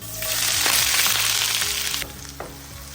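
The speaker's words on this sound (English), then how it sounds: "I'm going to fry these on high heat until they turn golden brown" Sliced onions hit hot oil for masala, a loud, close, continuous sizzle that eases off slightly toward the end, with no one talking.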